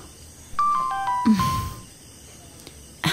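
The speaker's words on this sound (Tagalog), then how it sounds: "Nag-text na sa akin si Wallace." A phone text message notification tone sounds a short run of bright electronic beeps, near and clear over a quiet room, followed by a softer rustle and a later click.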